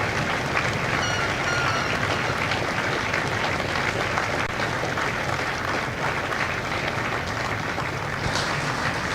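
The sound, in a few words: audience applause at Marine graduation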